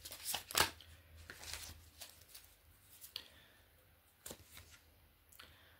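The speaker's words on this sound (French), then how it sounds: "on va couvrir ces cartes avec l'oracle du sixième sens" Oracle cards are laid over a spread, giving soft close slaps and papery shuffles at irregular intervals, one louder flick early on, in a quiet room.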